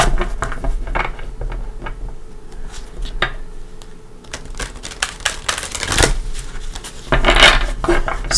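Tarot cards are shuffled by hand nearby, with crisp riffling bursts and soft slaps at an uneven pace, no voices present.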